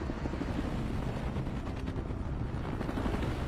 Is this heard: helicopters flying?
yes